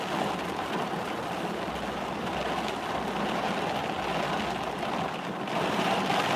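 Heavy rain falls outside as a steady, dense roar of drops, loud and unbroken throughout with no voices.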